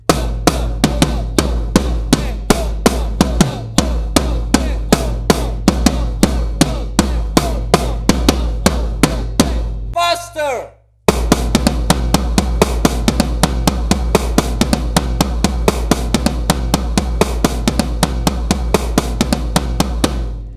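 A drum kit plays a fast, odd-metered solo pattern, with dense rapid hits over a heavy low thump, loud and close. A brief near-silent break occurs midway.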